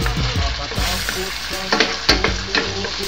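Beef and egg sizzling loudly in a pan while being stirred, with a continuous frying hiss broken by scraping strokes and several sharp clanks of a utensil against the pan.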